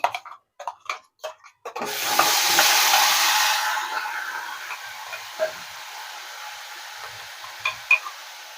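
Tomato paste hits a hot pan of oil with small cardamom, cloves and cinnamon, bursting into a loud sizzle that fades into softer frying, preceded and followed by scraping stirs of a spoon.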